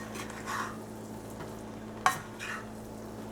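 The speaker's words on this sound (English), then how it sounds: "Slowly, I'm going to mix this rice." Rice being mixed slowly with masala in a pan over very low heat gives a soft, continuous sizzle with faint stirring rustles and one sharp utensil tap partway through. No one speaks.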